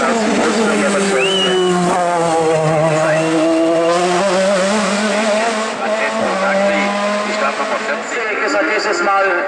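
A Porsche 935 GT4 race car climbs a 3.05-kilometre hill climb course at Eichenbühl in Unterfranken, its engine loud and close with a steady roar and rising, falling pitch through gear changes, while a commentator talks over it.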